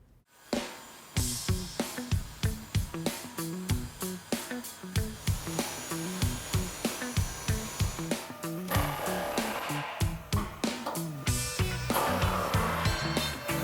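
Rivets being ground out of a 1968 Chevrolet C10 truck frame, harsh repeated bursts of grinding and banging in a loud, rhythmic series up close.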